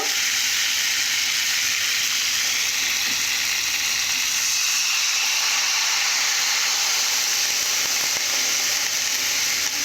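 Bitter gourd pieces already fried in a pan sizzle steadily with a broad hiss as water is added for a thin curry, a continuous close frying noise lasting throughout without any voices.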